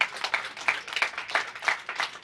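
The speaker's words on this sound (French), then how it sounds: "je vous demande d'applaudir très très fort" Audience clapping at a gathering honoring the Azalaï group's 25th anniversary, a fairly faint, quick burst of many hands applauding in uneven pulses with no talking.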